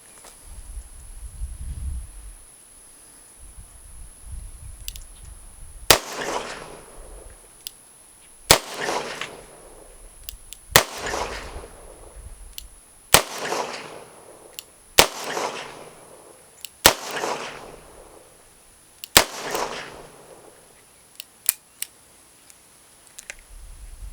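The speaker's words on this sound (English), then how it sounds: "We'll start with the 686 Plus and just put it on paper with some 38 Special center pressure loads" A Smith & Wesson 686 Plus revolver fires 38 Special rounds in double action at an indoor target range. Seven sharp, loud shots come at a steady pace, each about two seconds apart, with a short ringing decay after each one.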